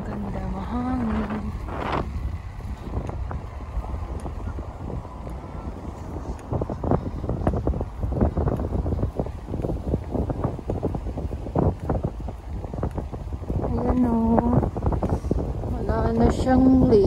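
Autumn wind blows outdoors in South Korea, buffeting the microphone with a continuous rough rumble and gusty thumps throughout, while a person walks and talks over it.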